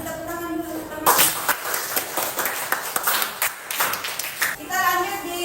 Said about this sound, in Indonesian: kasih tepuk tangan dulu teman